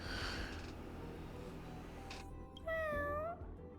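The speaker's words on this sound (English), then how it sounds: "It's a kitty!" A cat meows in a rising, wavering cry that lasts under a second, loud and close, preceded by a noisy indoor background with a brief sharp rustle.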